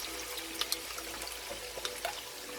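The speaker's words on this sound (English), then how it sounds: "I like my tomato paste to fry, so I can get rid of the sourness from the tomato" Tomato paste fries in a pot for Nigerian party jollof rice, giving a steady, close sizzle with a few small pops and crackles. Quiet overall and heard on its own, without talk.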